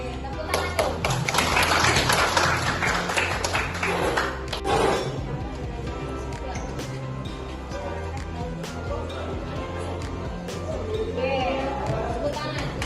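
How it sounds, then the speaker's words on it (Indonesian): A class of students applauding in a classroom, a short burst of clapping that peaks early and then trails off into scattered claps and room murmur. "tepuk tangan dong."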